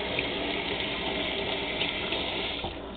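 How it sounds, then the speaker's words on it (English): Tap water runs steadily and loudly into a sink while hands are washed in a home kitchen, a continuous broad gushing wash with no breaks, close to the microphone. "let's wash this stuff off my hand"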